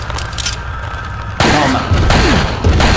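Flash grenade blasts and gunfire ring out in a Resident Evil 4 modded demo, loud booms and cracking shots in rapid bursts over continuous game noise.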